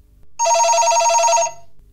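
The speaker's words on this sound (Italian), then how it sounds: "quello squillo c'era stato" A single telephone ring, a bright electronic trill lasting about a second, loud and close against near silence.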